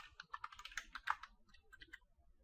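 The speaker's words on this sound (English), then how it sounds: "I'll just type test user, it would be the name, and I'll put the same password" Keys on a computer keyboard are typed in a quick, uneven run of soft clicks, close and quiet, thinning out toward the end.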